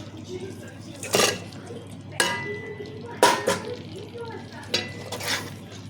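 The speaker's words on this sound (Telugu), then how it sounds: "చేపలు ఇవి మొత్తం కారం కలిసేటట్టు కలిపి" Fish and chili paste are stirred together in a pan with tomato paste, giving several scraping, clinking strokes of a utensil against the pan, spaced about a second apart, over a low background hum.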